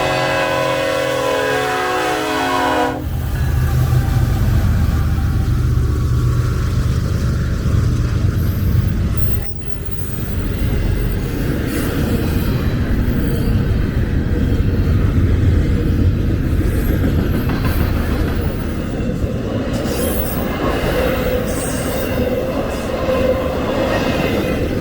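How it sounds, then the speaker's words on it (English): Norfolk Southern NS 1065, a specially painted Savannah and Atlanta Railroad heritage locomotive, leads a passing train, opening with a horn blast before a loud, continuous rumble and rolling clatter of wheels fills the scene. "On the point is none other than NS 1065, a specially painted locomotive commemorating the Savannah and Atlanta Railroad."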